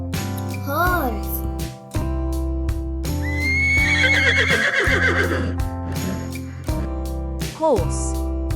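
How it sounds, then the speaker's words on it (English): A horse neighs in two clear, high, wavering whinnies, one early and one near the end, over a steady backing of tonal music. "Horse."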